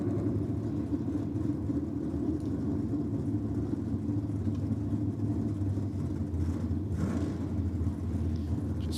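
A Kawasaki 1200cc drag racing motorcycle idles at a drag strip, a steady low rumbling engine drone that holds for the whole stretch with a slight rise near the end, loud and close without talk.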